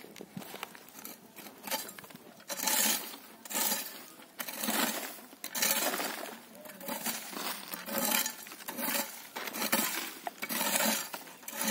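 A hand-pushed manual weeding machine with a blade is run over dry, hard grassy ground at home in Madurai, India, heard as repeated close scraping, rattling and crunching bursts in an uneven rhythm, with short gaps between strokes.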